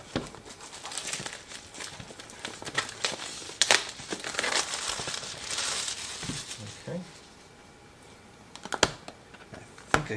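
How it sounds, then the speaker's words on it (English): Cellophane wrapping and a seal on a package being cut and peeled away, with close crinkling and crackling bursts and scraping, sporadic over about ten seconds with short pauses and a few sharper snaps near the end. "I'm basically just going to kind of cut through this little seal that we had back here. It's got some cellophane we'll get off of this."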